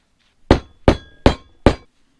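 Four sharp, evenly spaced metallic taps as a 32mm socket drives a crankshaft seal into a Golf mk2 GTi 1.8 engine being rebuilt, close and loud in quiet.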